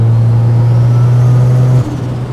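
A Mazda RX-7 rotary engine holds a loud, steady high-rev drone close to the microphone, then drops abruptly as the throttle is released near the end.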